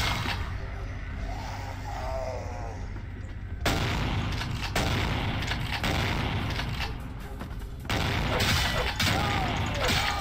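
Shotgun fire in the video game Vampire The Masquerade Bloodlines, a run of loud booming blasts and mechanical clatter set against game music and ambience, with a voice speaking in the background.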